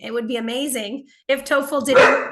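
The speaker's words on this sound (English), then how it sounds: "That's my dog who just scared me by barking." A pet dog barks indoors during a lesson: a loud bark comes near the end, right on top of a woman's speech, which fills most of the moment.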